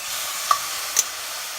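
A pork chop goes into a hot pan, giving a steady, even sizzle of moderate loudness with two brief clicks or taps partway through; no voices.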